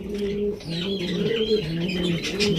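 Pigeons at a seller's stall coo in low repeated throaty phrases close by, with faint chirps and rustling around them.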